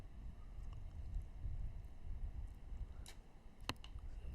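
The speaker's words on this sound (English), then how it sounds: "the wind picks up a little bit more at the start of this fourth end" Gusty wind at an outdoor compound archery tournament produces a low, rumbling buffeting that rises and falls, with a few faint distant clicks over the steady roar.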